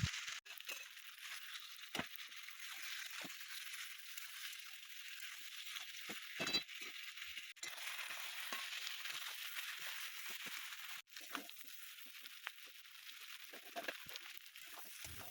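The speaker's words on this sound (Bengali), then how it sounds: "এরপরে আমি এটাকে ভালো মতো কষিয়ে নিয়েছি" Shrimp and young jackfruit stirred and sautéed in a pan, a quiet, continuous sizzle broken by scattered scraping and clacking knocks from stirring.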